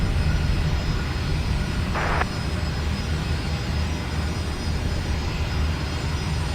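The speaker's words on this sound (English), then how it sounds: "I can hear a Fokker over on Dooley." Fokker turboprop engines at Brisbane Airport at night, a continuous far-off aircraft drone with a brief brighter burst partway through, steady and unbroken, with no talking.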